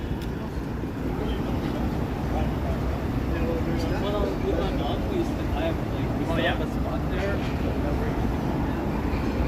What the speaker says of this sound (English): There's an inbound train.